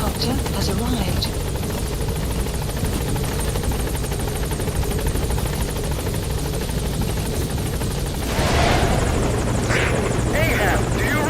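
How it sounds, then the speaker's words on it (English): A support helicopter in the video game Metal Gear Solid V hovers nearby, its loud, steady rotor thrum and engine drone continuous throughout, swelling slightly near the end, with radio voices speaking over it. "Support helicopter has arrived."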